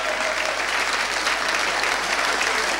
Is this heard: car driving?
no